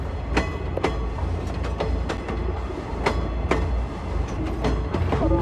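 A train rolls along its rails in the video game Oceanhorn 2, a steady low rumble broken by regular clickety-clack wheel knocks, loud and continuous.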